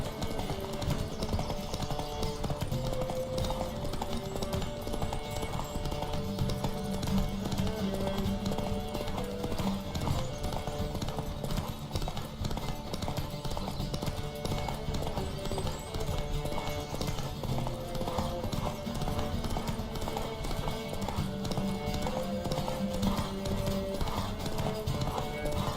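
Horse hooves pound at a fast, continuous gallop during a horse race in The Witcher 3: Wild Hunt over a steady game soundtrack, loud and driving throughout.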